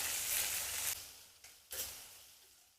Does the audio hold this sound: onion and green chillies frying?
yes